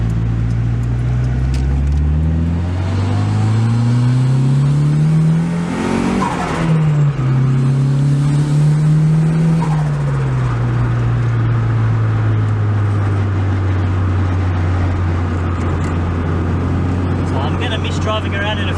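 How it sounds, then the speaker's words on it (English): A 50-year-old Datsun 1600 running a Sprint 500 with boost control, engine droning loud and close from inside while driving, revving up and easing back through the gears in one continuous pull. "driving around in a 50-year-old Datsun"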